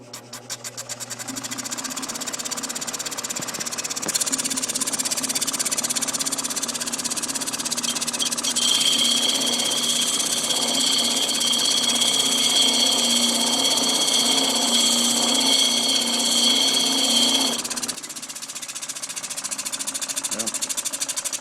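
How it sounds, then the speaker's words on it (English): An 8-inch 80 grit grinding wheel spins up and grinds rock into a sphere, producing a long, steady, loud whine and rasp that cuts off near the end. "running it on my 8-inch 80 grit wheel"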